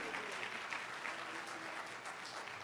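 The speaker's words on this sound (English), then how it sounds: "Come on, give the Lord a hand clap." A church congregation claps by hand during a worship service, a steady dense wash of applause filling the space with faint voices mixed in.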